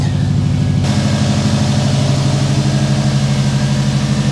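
A car engine idles close by, a steady low chugging pulse with a slight change in tone about a second in, the engine of a car whose gas tank was derusted with Evaporust in place.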